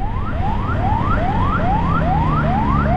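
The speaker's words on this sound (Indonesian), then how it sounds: "di depan kita ada ambulan ini" Ambulance from RSUD Tanah Datar sounding its siren on a busy road in Batusanggar during a motorbike escort, a repeating rising wail of about eight even sweeps per three seconds, loud and steady over low traffic and engine rumble.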